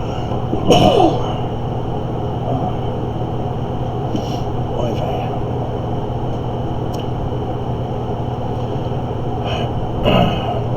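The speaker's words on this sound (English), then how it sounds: "Oh, sneeze coming on." A short burst that fits a sneeze, heard near the start over a steady hum and low talk, with a quieter exhale near the end.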